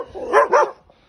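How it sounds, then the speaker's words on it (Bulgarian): Dogs at a village house in winter snow give two quick, loud barks close by, followed by a short quiet pause. "Ето и кучетата, които не ме познават."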